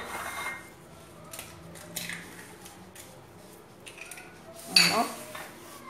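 Brioche dough ingredients mixed in a bowl, soft stirring and scraping with a sharp clink of utensil against the bowl near the end, close by, with a voice talking quietly.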